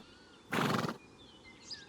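An Icelandic horse on a farm gives one loud, close whinny lasting about half a second, set against a quiet outdoor background.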